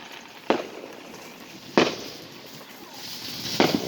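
Fourth of July fireworks going off in three separate sharp booming bursts spread over a few seconds, each fading quickly into a steady background hiss.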